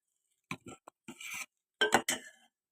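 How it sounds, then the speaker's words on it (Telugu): Buttermilk is stirred into vegetables cooked in oil for a soup, giving a few short clinks and scrapes of a spoon against a pot, close and separated by brief silences. "ఇప్పుడు మజ్జిగను వేసుకుందాం. కలిపి వేసుకుందాం."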